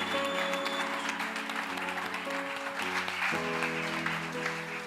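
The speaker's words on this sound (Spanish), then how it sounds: "Un aplauso." Applause rises from a church congregation during a testimony gathering, a moderate clatter of hands mixed with sustained organ or keyboard chords that shift partway through.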